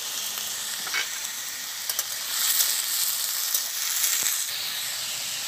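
Cut potatoes and slit green chillies frying in hot oil for a poppy seed dish: a steady, bright sizzle and hiss that swells slightly midway, with a few faint clicks of stirring, no voices.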